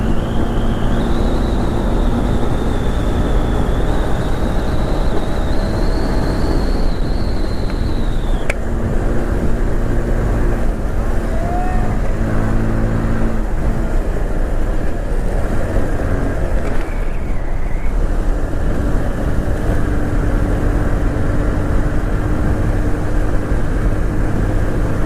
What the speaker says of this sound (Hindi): नाइन्टी से ऊपर गाड़ी नहीं जा रही।